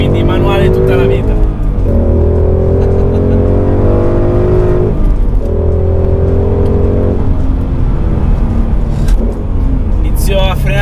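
A Ford Mustang 5.0 V8 muscle car on a track with brakes starting to fade, engine loud and close, rising through repeated gear pulls with deep harmonic revving and dips between shifts, while someone talks over it.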